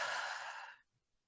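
A single long, slow exhale through the mouth as part of a yoga breathing exercise, close and breathy, fading out over under a second into quiet.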